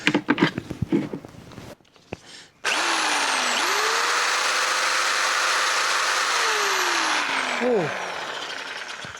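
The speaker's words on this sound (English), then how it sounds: "Jigsaw." A jigsaw runs off a DJI Power 1000 Mini portable power station, its motor whining up to a steady high-pitched cutting drone for several seconds before winding down, heard close after brief talk.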